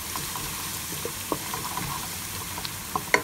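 Ground masala frying in a pan for a tangy roti salan: a steady, soft sizzle with scattered light pops and clicks, growing a little sharper toward the end, with no voices.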